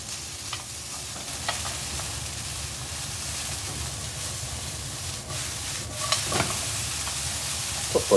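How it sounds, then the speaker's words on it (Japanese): Yakisoba noodles with bean sprouts stir-fry in a pan, giving a quiet, steady sizzle with soft scraping and stirring strokes, a few sharper clinks of the utensil near the end. "裏返して若干蒸し焼きにします。"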